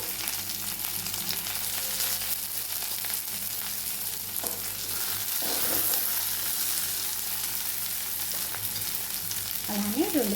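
Green chillies and curry leaves fry steadily in hot oil, a continuous close sizzle with occasional stirring scrapes and no talk.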